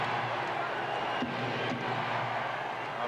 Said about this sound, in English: The crowd does not like this call.